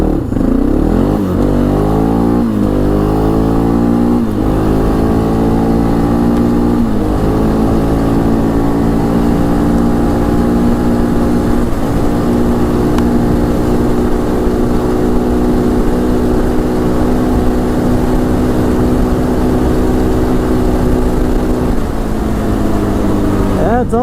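An ATV engine held at top speed in fifth gear near 7,500 RPM, a loud continuous drone that steps through rising gear shifts early, then holds steady and close before a final dip.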